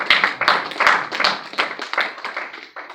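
Rhythmic audience clapping at a church ministers and leadership conference in Italy, with sharp, close hand claps in an irregular, lively pattern throughout.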